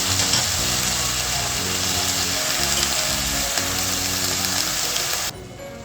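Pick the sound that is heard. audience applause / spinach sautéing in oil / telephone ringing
spinach sautéing in oil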